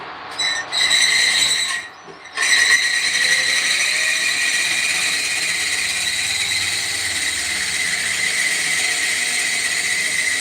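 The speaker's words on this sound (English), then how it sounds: "Let's see, should I drill them all?" A power drill bores holes in an elevator while an emergency phone is being replaced. A steady, loud whirring drone runs almost continuously after a brief pause near the start and sounds close by.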